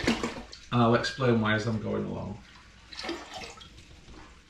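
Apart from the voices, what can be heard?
water filling big brewing pots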